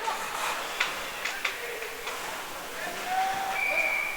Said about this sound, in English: And we got another whistle on an offside here.